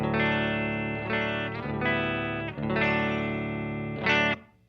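Clean electric guitar through Fender-style Vibro Champ and Deluxe Reverb amps, dry with no amp reverb, strumming a few sustained chords that ring and fade out at the end, moderately quiet and alone.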